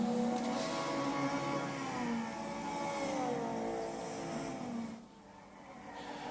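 A race car engine in Gran Turismo 6 at the Nürburgring whines at high revs, pitch rising and falling through gear changes, then drops abruptly near the end before picking up again; no one speaks.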